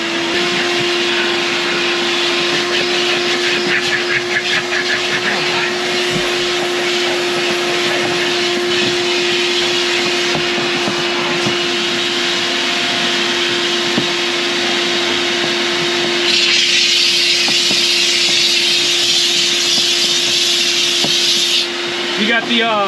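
A steam cleaner works over a filthy truck day cab, giving a steady loud hiss and whine that runs throughout and swells brighter and harsher near the end, with a constant tonal hum beneath.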